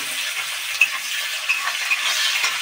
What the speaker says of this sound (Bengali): রসুনটা দিয়ে একটু নাড়িয়ে নিয়ে পেঁয়াজটা আমরা দিয়ে দেবো